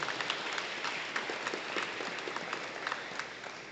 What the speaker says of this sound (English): Let's please give another round of applause